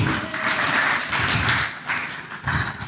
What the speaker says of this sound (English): Let's give a clap for Meru.